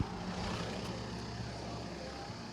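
A car decorated with an Abkhaz flag and loudspeakers cruises through the capital's streets during a state flag day celebration, a steady, muffled rumble of engine and road noise at low level with no clear voices.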